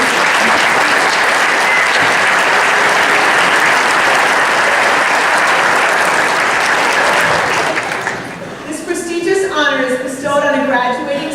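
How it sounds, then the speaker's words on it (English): Loud, sustained applause from a large crowd at an honors reception fills most of the clip, then fades as a voice begins speaking. "Can we have a round of applause for all of our Honor Society members?"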